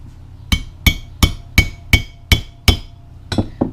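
Eight gentle, evenly spaced hammer taps ring out clearly, fitting a gasket onto an old rake being restored.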